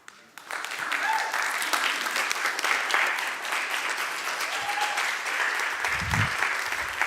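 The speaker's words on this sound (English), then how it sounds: "Let's have a round of applause for Tom LeNoble." Audience applause for speaker Tom LeNoble at a spiritual talk on living fully while dying, a steady dense clapping that starts abruptly and holds at an even level throughout, with no voices over it.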